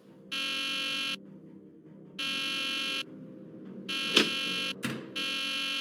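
Repeated electronic alarm in Nancy Drew: The Deadly Device video game, sounding in steady loud blasts of about a second with short gaps, broken by a couple of sharp thuds or bangs.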